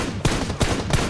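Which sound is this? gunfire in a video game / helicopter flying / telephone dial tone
gunfire in a video game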